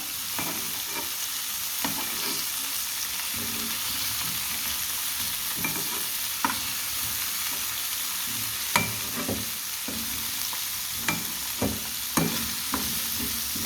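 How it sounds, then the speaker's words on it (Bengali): Capsicum and long beans frying lightly in a pan for a chicken vegetable stew, a steady close sizzle with frequent scraping and clinking stirs of a spatula against the pan. "আমি একটু হালকা করে ভেজে নেব।"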